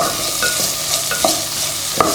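Capsicum sautéed in tomato paste for pasta, with a spatula scraping and stirring through a close, continuous sizzle and a few louder knocks against the pan.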